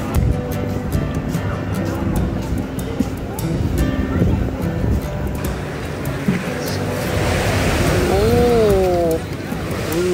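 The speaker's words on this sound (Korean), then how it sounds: "파도 장난 아닌데" Ocean surf on Oahu, Hawaii, rolling and crashing nearby under wind noise, with people chatting and an excited exclamation over the water.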